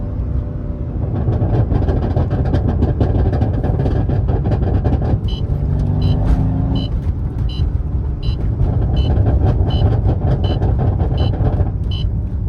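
Car running a stage 2 max burble exhaust tune, a loud, close, continuous rumbling drone with bursts of crackling pops and burbles through the middle and later stretches.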